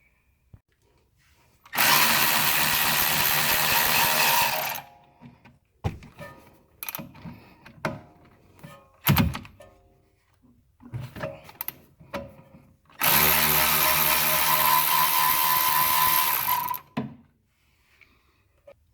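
A power tool runs in two sustained loud bursts of about three seconds each, backing out 7mm hex brake caliper bolts, with clicks and clanks of handling between the bursts.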